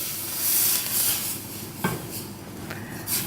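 A roux thinned with soup broth is stirred in a pot in a restaurant kitchen, with steady close scraping strokes and a couple of sharper clinks against the pan.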